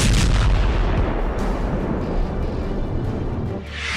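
Heavy rumbling booms and blasts from a missile attack on the Russian Black Sea Fleet headquarters, a dense, roaring barrage of low thuds that continues loud throughout with no voices.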